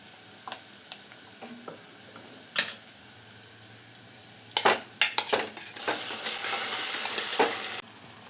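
Cooked tapioca is stirred into frying onions in a pan, with scattered scrapes and knocks of a utensil on metal building into a louder, steady sizzle.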